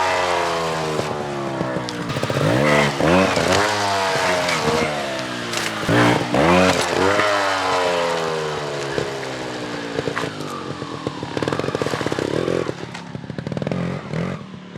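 A trials motorcycle being ridden gives loud, close engine revs that rise and fall in quick repeated bursts, with brief blips between steadier stretches and no talking.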